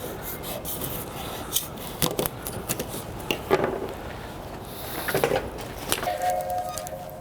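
Flat belt being cut for lacing with a wire hook system, heard as a series of close, scraping rubs and rasping cuts with irregular bursts, then a brief faint metallic clink near the end.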